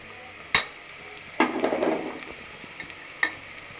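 Ginger-garlic paste hits a hot pan with chillies for a tomato dish, a short sizzling burst amid a few sharp metallic clanks of a spoon against the pan, fairly quiet overall.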